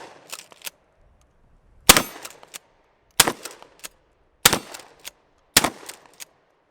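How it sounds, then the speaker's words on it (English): Rifle shots fired at targets on an outdoor range with a Ryker grip and side-mounted sling, five sharp loud cracks in irregular spacing, each with a short ringing tail and faint echo between. "Yep, and go. Two shots."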